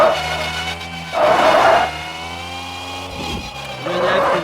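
A race car is driven hard through a corner, its engine droning steadily in the foreground while a loud burst of tire squeal rises about a third of the way in and another returns near the end.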